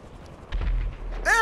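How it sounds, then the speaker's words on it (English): A helicopter exploding on a rooftop in Grand Theft Auto V, a low rumbling boom rising after a quiet start and holding as a deep roar, with a brief bright crackle at the end. "Helicopter finally exploded."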